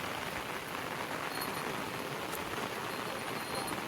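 Steady rain falls over a Kokan jungle village, an even, dense hiss of drops that fills the air with no break and no voices.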